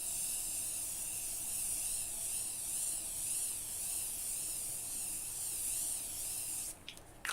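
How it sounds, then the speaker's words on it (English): Setting spray misted onto a face from a makeup bottle: a steady, close hiss that runs for several seconds without a break, then cuts off with a few soft handling clicks near the end. "Setting spray is sprayed."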